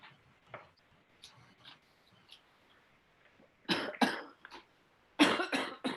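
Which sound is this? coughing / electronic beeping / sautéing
coughing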